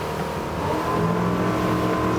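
NX 290 Grand Style motor boat running at full throttle, engine near 4,600 RPM at about 25 knots, giving a steady loud drone with a constant tonal hum and rushing hull noise throughout, no voices.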